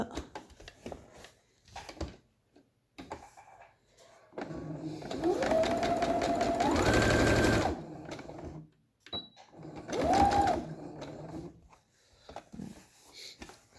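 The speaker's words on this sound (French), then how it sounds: "on se met vraiment dans la couture" An electric sewing machine fitted with a very fine needle stitches a polyester face mask, whirring up to speed in two sustained runs between quiet pauses filled with soft handling sounds of fabric, close by.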